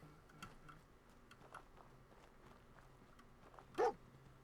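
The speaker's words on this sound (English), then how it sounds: "So we just met a dog friend here too." Dog in the video game Fallout 4, a single faint bark near the end over quiet ambient background with soft ticking sounds.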